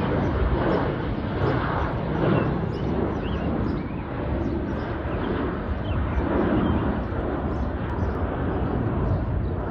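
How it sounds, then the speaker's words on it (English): A Southwest Airlines Boeing 737-800 arriving at Chicago Midway, heard as a steady broad jet engine roar with wind buffeting, fairly loud and continuous throughout. "got a Southwest Airlines Boeing 737-800. We're arriving in from Vegas."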